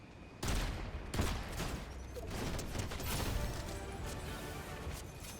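Fortnite's outlaw shotgun fires in a burst of sharp, loud blasts amid dense crashing game action, with repeated shots close together throughout.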